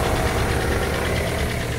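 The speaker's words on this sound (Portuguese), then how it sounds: "Tá aí o motor." A Fiat Fiorino 1.3 Fire van engine idles steadily up close, a loud, even mechanical rumble with faint ticking running throughout and no voices.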